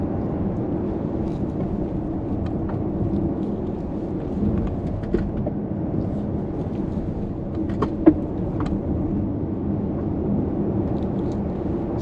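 A Volkswagen ID.7 electric saloon drives through a string of bends, heard from inside as a steady low road and tyre rumble with small knocks and bumps and a faint whine, loud and continuous with no talk.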